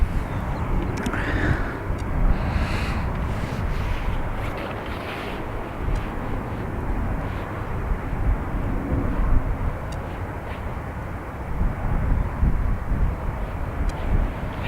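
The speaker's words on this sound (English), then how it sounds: "Odd props on an ATR." ATR turboprop airliner with its propellers winding down at Dublin Airport, a steady broadband engine and prop roar with wind noise, moderately loud and continuous throughout.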